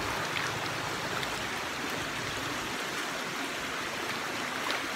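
Water pours steadily over a weir, giving a dense, even rush that stays constant throughout without any voices.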